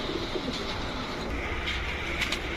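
A red pied racer pigeon hen coos softly in a loft, low murmuring calls repeating over a steady background hiss.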